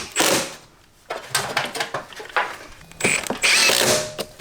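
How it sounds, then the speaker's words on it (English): A screw being driven into wood blocking on a wall during drywall prep, heard as bursts of whirring, grinding drill noise in several pulses with brief pauses between them, close and fairly loud. "Let me drive this screw and then we'll do the other 2"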